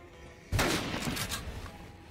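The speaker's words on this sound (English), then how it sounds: "I'm gonna use my sniper bullets." A single loud sniper rifle shot in the video game Dead Rising, a sharp blast followed by a short rumbling tail and a few fainter echoing reports.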